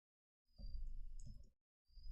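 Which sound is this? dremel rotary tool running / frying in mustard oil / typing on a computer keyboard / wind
typing on a computer keyboard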